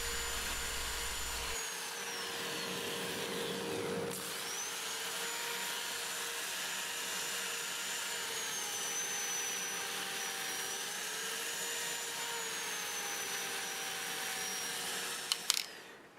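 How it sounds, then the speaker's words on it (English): A wood lathe spins a black walnut bowl during sanding, giving a steady, close whine with a faint shifting tone that carries on unbroken for the whole stretch before a couple of sharp clicks at the very end. "I'll go ahead and turn the lathe on and we'll sand it up all the way to 400"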